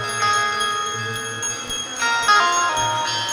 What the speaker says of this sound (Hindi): मंदिर में भी जाओ ना तो घंटी का नाद करो तो बड़े प्रेम से करो